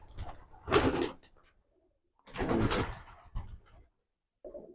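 Pigeons in a loft moving in through an entry hole, with two bursts of wing flapping and scuffling, soft cooing and a faint tap at the end, fairly close in a quiet space.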